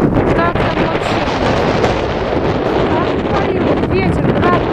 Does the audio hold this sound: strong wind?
yes